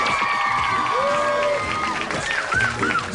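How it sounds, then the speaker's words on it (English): Game show studio audience cheering and applauding with crowd noise, whoops and a bright musical sting over it, lively and steady for a few seconds. "big round of applause, ladies and"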